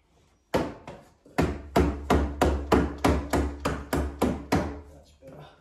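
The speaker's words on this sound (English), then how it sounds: "one of the tools I found to be great is just this dead mallet" A dead-blow mallet knocks a timber stud into place during a butler's pantry build, about ten loud, close, heavy thuds in a steady rhythm after one soft tap.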